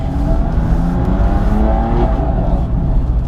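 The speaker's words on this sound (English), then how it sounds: "So we're now going to take out the BMW M2 competitions on the track." A BMW M2 Competition on a race track roars steadily at high revs, a loud, continuous engine drone heard from close by with no pauses.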